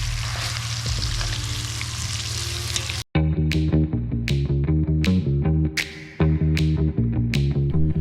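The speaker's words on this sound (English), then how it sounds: "Sprinkle it over the carrots, watch it start to sizzle and caramelise, and just cook them for another couple of minutes." Carrots sizzle in a cast iron skillet as sugar is sprinkled over them to caramelise, a loud steady frying hiss, then a sharp cut to a sizzle broken by repeated crisp clicks and taps of stirring.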